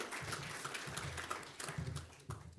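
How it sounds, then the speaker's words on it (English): Audience applause at a neighbourhood watch community talk, a steady patter of clapping from a modest crowd lasting a few seconds with a faint voice mixed in. "They're going to just give them a round of applause."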